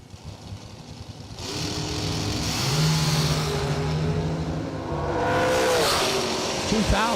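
Drag racing cars at a season kick-off meet, one of them a hardtail with dual parachutes: a loud, steady engine roar that swells and rises in pitch as the cars accelerate, with faint announcer talk underneath.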